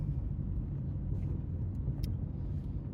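A car driving around the block, a steady low engine and road rumble from inside or near the vehicle, even and continuous with no voices.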